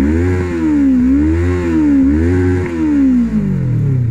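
A 2008 Kawasaki ER-6n motorcycle sits stationary while its engine is blipped up and down several times, a loud, close, rhythmic rise and fall of revs before the note settles back toward idle.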